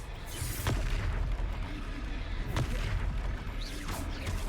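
Repeated Confringo fire-spell blasts in the Hogwarts video game, three sharp booming bursts roughly two seconds apart over a constant low rumbling combat background, with no talk.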